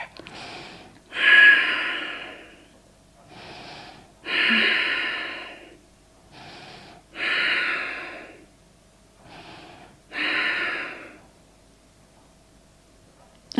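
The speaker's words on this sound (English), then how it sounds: "take deep breaths into the chest area" Deep breathing during a yoga backbend: four slow cycles of loud, close exhales, each one breathy and about a second long, with quieter inhales between and near silence around them.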